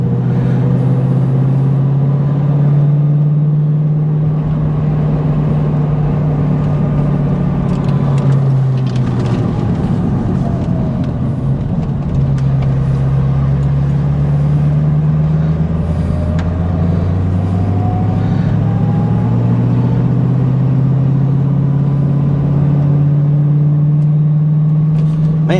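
A constant, loud low drone fills a car cabin from Flowmaster exhausts resonating around 2100 RPM while the car creeps slowly along Arkansas Highway 23, the Pig Trail, with engine pitch rising and falling slightly throughout.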